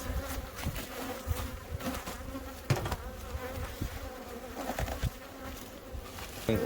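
Honeybees buzzing around their hives during a January hive check on a warm 25-degree winter day, a steady dense drone close by with a few louder passes and light knocks.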